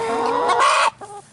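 Backyard chickens cluck loudly and close by, a throaty drawn-out call breaking into a short burst of clucks from the flock.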